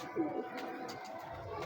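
A domestic pigeon held by a pigeon keeper gives a low, soft coo up close, partly under a nearby voice.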